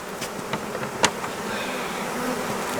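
Honeybees buzz steadily around a hive during installation of a new colony, a close, dense droning hum with a few individual bees passing near; no one speaks.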